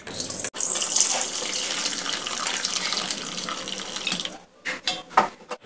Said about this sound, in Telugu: ఇప్పుడు ఈ సూప్ ఇందులోకి వడకట్టుకుందాం।